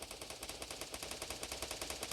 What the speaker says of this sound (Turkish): Abi silah sesi daha.